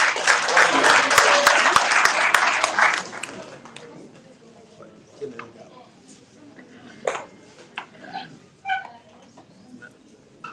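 At a book launch an audience breaks into a round of applause, dense and loud for about three seconds, then thins into scattered claps and a few faint voices and room sounds.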